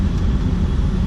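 Lifted 2000 Ford truck with a 7.3 Powerstroke diesel engine: a short, loud, deep rumbling idle, steady and close, with no talk over it.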